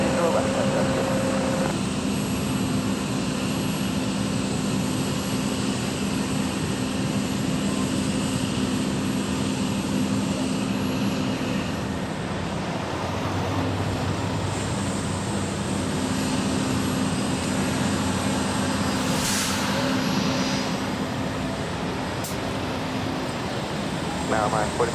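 Aircraft at San Jose Airport, heard as a steady, loud engine roar and broadband rumble that holds throughout, with air traffic control radio voices talking over it.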